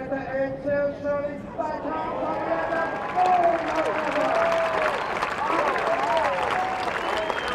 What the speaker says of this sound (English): Round of applause for these